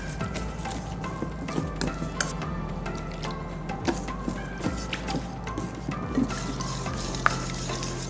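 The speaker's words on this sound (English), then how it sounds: "And mix well with whisk." Whisk stirring potato pancake batter mixed with water in a mixing bowl, a steady run of soft scraping and light clinks against the bowl, close up, with a low background hum and no talking.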